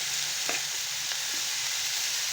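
Chopped vegetables frying in a pan for chicken vegetable noodles, a steady close sizzle with a few soft clinks of stirring, no talking.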